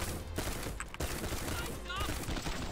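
Full-auto shotgun firing flechette rounds in a video game, a rapid run of blasts and impacts over a dense, busy game soundscape, with a voice talking over parts of it.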